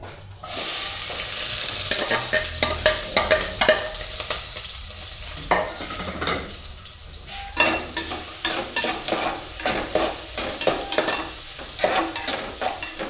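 Ingredients sautéing in a pan for bindungo, a steady sizzle with repeated scraping and stirring clatters in an uneven rhythm, close and fairly loud throughout with no talking.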